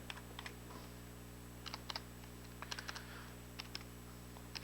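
Faint, scattered clicks of keys tapped in small irregular clusters on the keyboard of a home-built Kestrel-2 computer, over a steady electrical hum.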